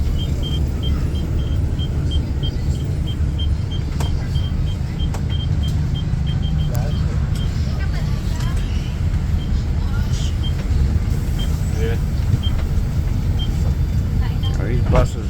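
Interior of a moving bus on the road to Dumaguete, with a loud continuous engine rumble and road noise throughout and occasional rattles and faint voices underneath.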